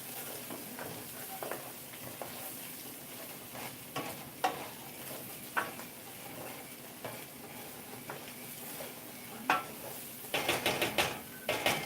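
Ginger and garlic fry in a pan with a steady, moderate sizzle, broken by scattered sharp clicks and scrapes of a utensil and a louder burst of clatter near the end; no one speaks.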